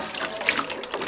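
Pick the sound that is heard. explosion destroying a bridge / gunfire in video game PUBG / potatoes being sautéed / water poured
water poured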